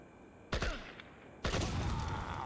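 In the video game IGI 1, a grenade goes off with two sharp blasts, the second one loud and close, over a steady game hum with no speech.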